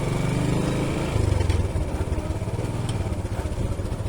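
Engine of a manual motorcycle running steadily in first gear after a downshift, with a loud, continuous low throbbing drone and even pulsing, heard alone without talk.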